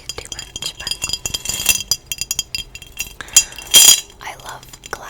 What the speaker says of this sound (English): I love glass sounds